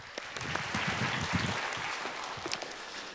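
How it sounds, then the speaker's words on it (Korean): A church congregation at a youth worship service claps together in praise, a fairly soft but steady patter of hands with a few heavier thumps, no talk over it. "하나님께 함께 영광의 박수 올려드리겠습니다."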